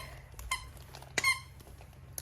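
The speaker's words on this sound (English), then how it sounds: "And my poodle squeaky toy," A poodle-shaped squeaky toy squeaks twice, short sharp close squeals separated by a pause, in a quiet room.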